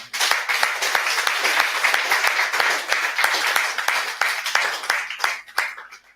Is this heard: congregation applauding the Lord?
yes